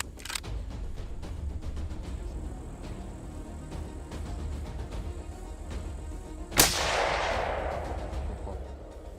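Hunting rifle shots ring out on a mountainside during a big-game hunt: a faint early report, then a sharp loud crack followed by a long rolling echo fading away.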